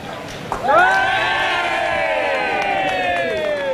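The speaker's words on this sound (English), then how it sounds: "Big cheer for Peter Lindsay in Townsville" Loud crowd cheering and whooping bursts out and holds steady at an Australian federal election night event in Townsville in 2004, a sustained roar of many voices.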